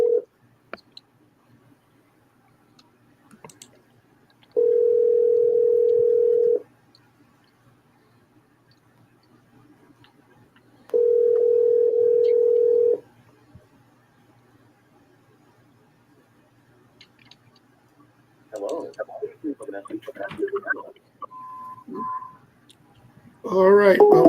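Two long, steady ringing tones from an outbound sales phone call, each lasting about two seconds with a quiet gap between. They sound clear and close over near silence, and voices start up toward the end.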